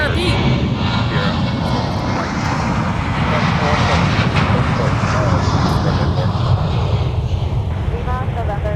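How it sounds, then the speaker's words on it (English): A Sun Country Prime Air Boeing 737 jet departs runway 30 left at MSP airport, its broad engine roar loud and steady throughout, with radio chatter and voices running underneath. "This is our Sun Country Prime Air 737, departing 30 left."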